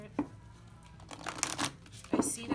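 Tarot cards being shuffled by hand, a soft papery riffling and sliding that rises into a few sharper flicks, close by, with a quiet voice underneath.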